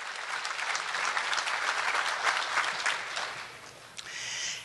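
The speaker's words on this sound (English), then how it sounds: "Give yourselves a round of applause because you came a long ways to get here" Applause from the audience at an international snowmobile industry conference, a dense, sustained roar of many hands clapping in a large hall, tapering off near the end.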